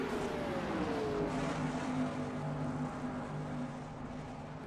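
Race cars from a stock-car racing video game, including an Oldsmobile, drone past on track with steady engine tones that bend in pitch, loud and continuous throughout.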